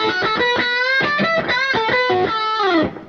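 Distorted electric guitar plays a run of bluesy bent notes and short phrases through a Blackstar HT5 amp, loud and close, ending on a sustained fading note.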